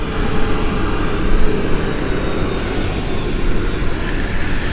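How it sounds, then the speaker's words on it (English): An Air Transat jet fitted with Pratt & Whitney 1000 engines passes at Gatwick Airport, producing a loud, continuous broadband engine roar that swells slightly midway. "Air Transat has got the Pratt & Whitney 1000 engines"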